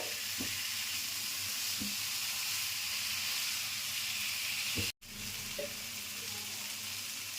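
Garam masala is stirred into a frying pan of dry-spiced potatoes (sukno aalu): a steady, loud sizzle with a spatula scraping the pan every second or so, and a brief cut in the sound midway.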